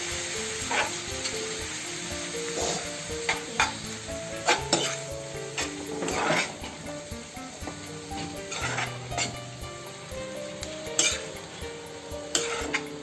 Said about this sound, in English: let's fry this for a few minutes until the raw smell of the ginger and the garlic goes away.